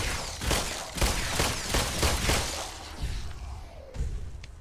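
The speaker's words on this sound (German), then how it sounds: "Das war ein Schuss" Gunshots ring out in The Brookhaven Experiment, a VR horror game: a rapid string of about eight loud, punchy shots, then a few sparser bursts as the firing slows.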